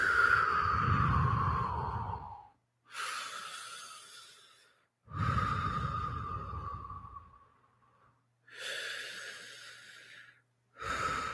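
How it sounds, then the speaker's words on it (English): A person takes slow, deep breaths during a relaxation exercise: five long, close inhale and exhale cycles, each a couple of seconds long with brief pauses between them, and no talking. "So I'd like you first just to take a few deep breaths and just relax."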